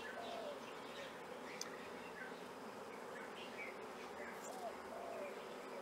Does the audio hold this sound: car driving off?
no